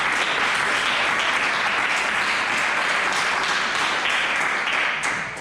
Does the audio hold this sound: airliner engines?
no